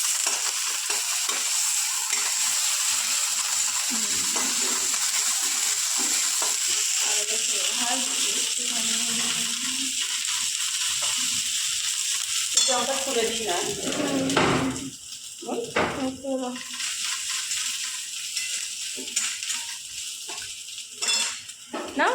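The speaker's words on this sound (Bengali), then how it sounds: "দেখো এরকম করে ভেজে নিয়েছে এরপরে দিয়ে দেবে আদা রসুন" Ginger and garlic frying in a pan for aloo patishapta, a steady close sizzle with repeated scraping and stirring of a spatula against the pan, while people talk over it intermittently.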